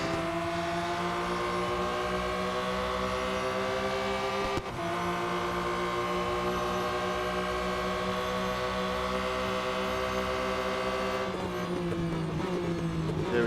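A race car in Real Racing 3 drones at a steady high engine pitch while overtaking on a long straight, loud and continuous, with a brief break near the middle and a shift in tone toward the end.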